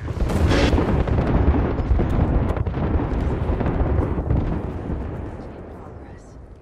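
Airstrike artillery explosions in the Apex Legends video game, a dense rumbling barrage of booms that stays loud for most of the stretch before tapering off, with a voice talking over it.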